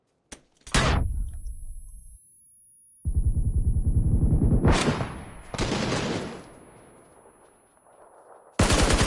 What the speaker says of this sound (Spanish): Tiro, disparo.